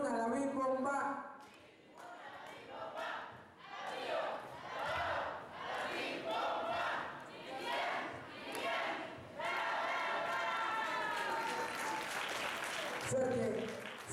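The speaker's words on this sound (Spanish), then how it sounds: "que se escuche bien, bien fuerte esa porra que dice Chiquitibun a la Big Bomba" Crowd at a quinceañera Mass celebration chanting the Chiquitibum cheer in rhythmic bursts, shouts rising and falling in waves with claps and thumps, loud and close, with a voice leading over parts of it.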